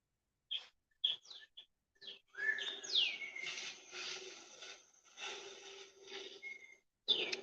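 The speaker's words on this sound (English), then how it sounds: "this bird has been coming to my window and he's been playing this melody for me at 5 o'clock every morning" A songbird at a window in the early morning sings a melodic phrase of clear, whistled notes and trills, close by, with short pauses between phrases.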